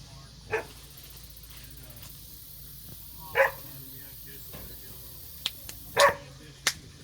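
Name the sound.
dog barking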